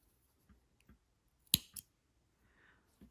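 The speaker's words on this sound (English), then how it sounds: "then we can go ahead and cut the yarn" Scissors cut through yarn with one crisp snip and then a softer second snip, close and quiet, among a few faint handling clicks.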